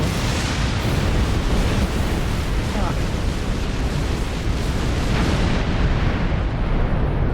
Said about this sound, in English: What a glorious explosion.